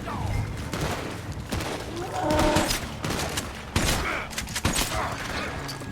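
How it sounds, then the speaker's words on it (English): Varmint rifle gunshots in the video game Red Dead Online, several sharp shots fired amid dense, noisy game sound with a voice talking over them. "I'm shooting him with the varmint rifle"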